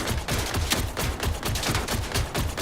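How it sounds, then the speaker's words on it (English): A gun with ricocheting bullets fires in Borderlands 4, a loud, dense run of fast, slightly uneven shots that continues without a break. "So this gun has a few ricocheting bullets you can use."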